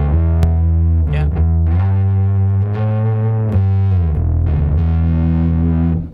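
A bass guitar plays through a TC Electronic SpectraDrive preamp loaded with the Dark Horse TonePrint, with the gain and tube drive cranked. Thick, distorted sustained notes and slides ring out loudly with a solid low end, with no talking.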